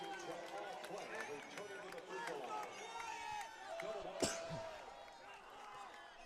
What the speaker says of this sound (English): The parents, the fans rising in unison, cheering as they feel it.